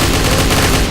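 Shotgun buckshot blasts in the video game Tactical Intervention, a very loud, dense burst of gunfire filling a brief moment with no speech over it.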